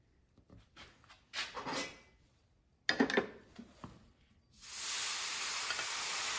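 Steam hisses steadily and fairly loudly in the last stretch, used to loosen glued pneumatics on a player piano or organ under restoration. It comes after scattered clatter and handling noises, with no talk.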